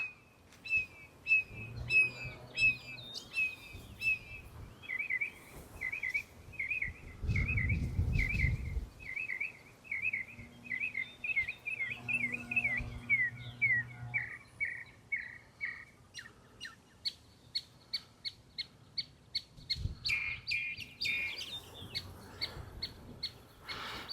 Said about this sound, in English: that's a mockingbird singing all kinds of different songs